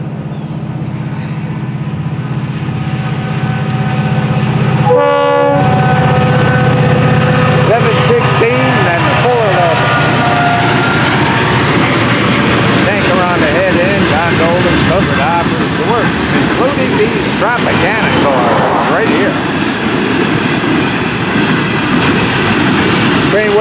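FEC103, a Florida East Coast freight train, passes close by heading toward Fort Pierce, a brief horn blast giving way to a long, loud rumble and clatter of rail cars rolling past, with occasional talk.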